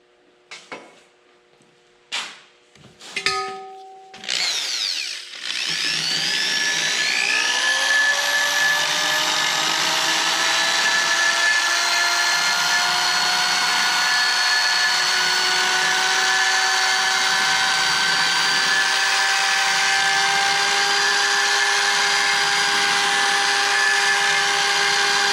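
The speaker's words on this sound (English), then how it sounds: "I just got a rotary file go on the end of my drill, and we'll just hit it" A rotary file spun by a handheld drill bites into aluminum on a C-cab build's rear spring mounts, starting after a few clicks and knocks, then a steady, loud, high whining grind that runs unbroken to the end.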